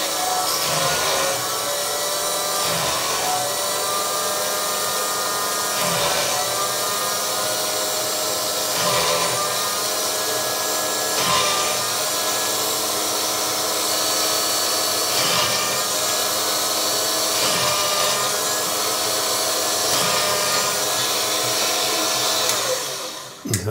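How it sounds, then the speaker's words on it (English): A power drill bores a row of holes in wood while making smallpipe bellows, giving a continuous loud whine broken by short regular pauses as the bit moves from hole to hole. "I'll drill this row of holes there."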